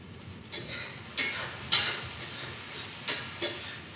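Okra frying in a pot for gumbo is stirred, with a spoon scraping and clinking against the pot in several separate strokes over a soft background sizzle.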